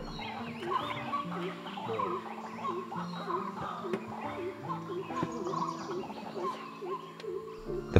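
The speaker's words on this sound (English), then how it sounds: "The intermittent noise we hear is that of a white-breasted water hen, commonly found near water bodies," Repeated harsh, croaking calls of a white-breasted waterhen close by over a muffled forest background in a tiger reserve in India, the calls coming in uneven bursts throughout.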